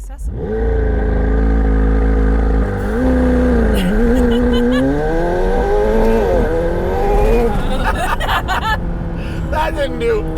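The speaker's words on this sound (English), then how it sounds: "One thing it's bad at, launching in the rain." A 2020 McLaren 720S Spider engine revs loudly and steadily while launching on a wet road, rising and falling in pitch as it strains, with voices talking and a few laughs over it.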